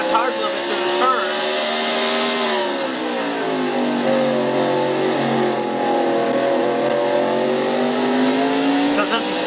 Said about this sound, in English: Sometimes you spin the tires on the turns here at Martinsville, it usually kind of upsets the car.